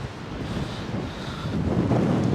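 Outdoor wind in Penzance buffets the microphone with a continuous low rumbling roar that grows slightly stronger toward the end, with no voices.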